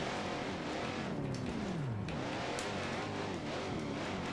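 A race car engine held high near the rev limiter in third gear, droning loud and steady with pitch sweeps as it bogs and climbs again.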